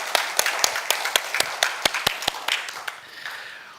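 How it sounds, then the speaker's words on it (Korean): Church congregation clapping in praise, a run of sharp, fairly regular claps from a small group, close and moderately loud, tapering off near the end. "하나님께 영광의 박수 올려드리겠습니다."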